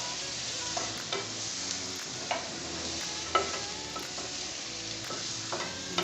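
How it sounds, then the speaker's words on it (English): Food stirred and sizzling in a cooking pot, with steady frying hiss and sharper scrapes of the spoon against the pot every second or so, close and continuous with no talking. "we mix it very well. Guys, please don't mind the noise."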